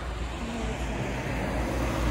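A city bus pulls in to a stop on a street in Khabarovsk, a steady close engine and road rumble filling the whole moment with no clear talk.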